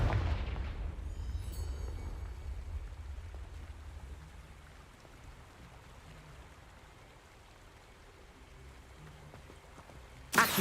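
A Confringo fire spell blasts in the Hogwarts Legacy video game, a loud rumbling burst at the start that fades into a long low crackling wash, with a sharp hit right at the end.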